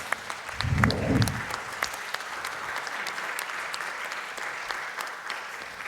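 An audience claps steadily for several seconds, the applause swelling at first and then settling into an even patter.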